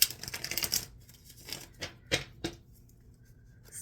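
Tarot cards being shuffled by hand, a run of rapid riffling flutters followed by a few separate crisp snaps and slaps at close range, with quiet pauses between.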